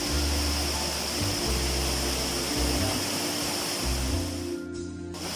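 Pa Wai waterfall in Thailand, a red-tinted cascade, roars as a steady wash of falling water close by, with a low rumbling undertone and no voices.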